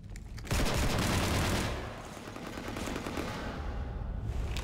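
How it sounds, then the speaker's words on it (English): Heavy gunfire strafes a ship in Mass Effect Legendary Edition, opening with a sudden dense barrage that eases into a quieter, continuous rattle of shots with a distant feel, and no speech. "You want to stop shooting up my ship?"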